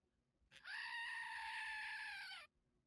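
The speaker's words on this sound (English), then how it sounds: "Tabitha, just start ringing in while the goat's going." A goat bleat sound effect plays during a comedy trivia game show, one loud, sustained, harmonic bleat lasting about two seconds that cuts off sharply, with no talk over it.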